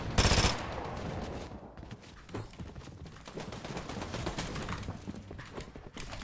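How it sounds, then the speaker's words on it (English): Rapid drum shotgun fire in Fortnite bursts in a loud blast at the start, then continues as a dense stream of repeated shots and clatter through the rest of the game action. "Oh, it's a drum shotgun kid."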